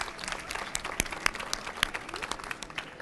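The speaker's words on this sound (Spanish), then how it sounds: "Aplauso." Applause from an audience at a gaming conference panel about PlayStation in Latin America, a brief burst of many individual sharp claps, fairly close and lively, with no voices over it.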